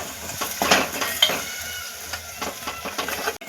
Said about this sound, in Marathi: तुम्ही बघू शकता आपले मसाले किती व्यवस्थित फ्राय झालेले आहेत तेलामध्ये